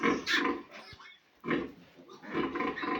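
Pigs of mixed sizes eat poured feed at an evening meal, grunting and squealing in close, intermittent bursts with short pauses between.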